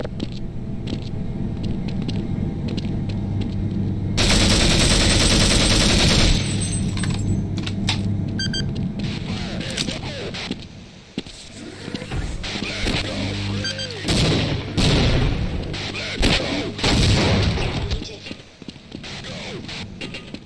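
Rapid gunfire from enemies in a video game, loud and crackling in bursts, mixed with other game effects and close speech over it.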